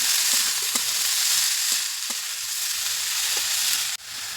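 Radish greens sizzle steadily in a hot pan with chopped garlic and onion, a constant frying hiss broken by a few soft stirring knocks and a sudden dip near the end.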